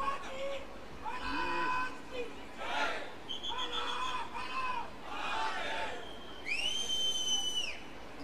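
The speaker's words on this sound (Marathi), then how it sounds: "बघा, टाळ्या शिट्ट्या घोषणा चालू आहेत" Packed open-air theatre crowd at a political gathering, with loud shrill whistles, cheering and chanting surging in waves over a steady hubbub; clapping is not distinct.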